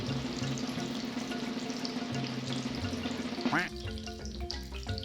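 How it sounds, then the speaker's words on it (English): Steady sizzle of steak in a frying pan runs throughout, with a faucet-like gush of water and clattering near the end as the sizzle continues underneath. "Let that sizzle away."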